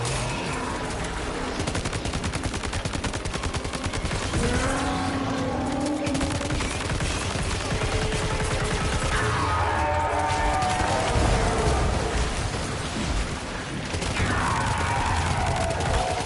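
Rifle gunfire in the game Death Stranding 2, a steady dense stream of rapid shots going on and on at high volume, with brief lulls and whooshing movement sounds mixed in.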